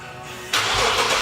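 An Infiniti G37 with its resonator and muffler deleted cranks briefly, then the engine catches and bursts into a loud, raspy, close-up roar that holds steady through the rest of the moment.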